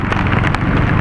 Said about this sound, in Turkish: Abi bu nasıl bir yağmur ya?